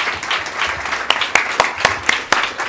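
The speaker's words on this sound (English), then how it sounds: "A bigger round of applause." Audience applause at a Nobel Peace Prize 2024 celebration event as an artist takes the stage, steady clapping with a few sharper claps standing out, moderately loud.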